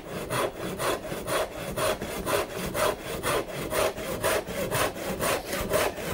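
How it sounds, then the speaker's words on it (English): A tenon saw cuts through wood up close in steady back-and-forth strokes, a rhythmic rasping that repeats about three times per second. "So now it's got to be sawing to that line."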